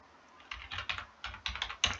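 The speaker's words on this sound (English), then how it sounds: "I'm just typing here on the side." Typing on a computer keyboard while researching stocks, a quick irregular run of close, light key clicks heard alone over a faint background hum.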